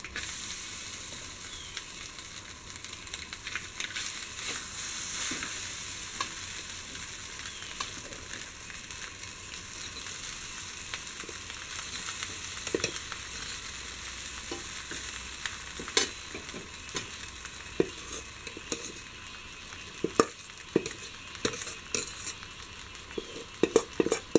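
Cooked rice being stirred into egg masala in a pan for egg biryani, a constant sizzle under repeated metallic scrapes and clinks of a spoon against the pan, growing louder toward the end.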